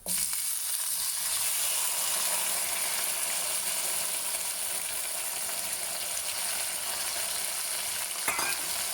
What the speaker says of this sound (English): Now to this, I'm going to add the potatoes.